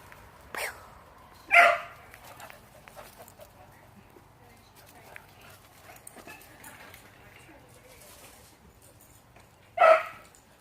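Puppies at a pool party play with a ball, giving a few short, sharp barks spaced apart against a quiet yard, with soft background movement between them.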